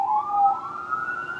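A police siren sound effect wails briefly, its pitch sweeping upward in a single loud, clean rise with nothing else beneath it.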